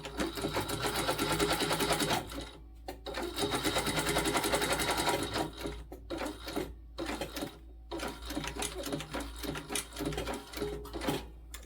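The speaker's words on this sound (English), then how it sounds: "I'm gonna top stitch." A sewing machine top stitches a bag seam, running in long steady bursts of rapid needle chatter with brief pauses between runs, close and clear.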